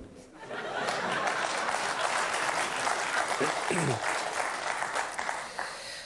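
Studio audience applause on a Georgian talk show, sustained dense clapping for several seconds that fades out at the end.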